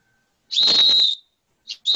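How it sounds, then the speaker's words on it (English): A sporting whistle blown in the street to hail a cab gives one long shrill blast, then a short chirp and the start of another blast, loud and close with no talk. "That ain't a police whistle, that's a sporting whistle."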